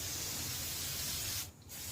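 A can of cheap aerosol furniture polish hisses in one long steady spray onto a 14 HP Briggs & Stratton engine on a Murray riding lawn tractor, close and loud, then cuts off briefly.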